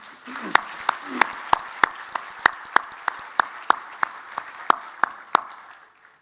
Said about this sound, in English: Can we have a round of applause for the trustees of the Page Foundation?